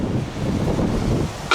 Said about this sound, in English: As you can hear, it's pretty windy again.